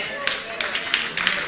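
An audience at a sermon breaks into scattered clapping, a few irregular claps standing out over a steady background of voices.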